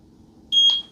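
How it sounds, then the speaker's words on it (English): A single electronic sync beep from a eufy Indoor Camera C210 during setup, a clean high-pitched tone lasting about a quarter second, close and clear against a quiet room. "2 seconds till you hear a beep."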